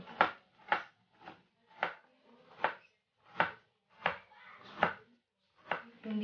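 A knife slices through bitter melon (ampalaya) on a cutting board in about a dozen crisp, evenly spaced chops, close and distinct against an otherwise quiet kitchen.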